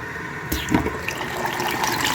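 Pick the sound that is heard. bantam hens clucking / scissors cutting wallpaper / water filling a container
water filling a container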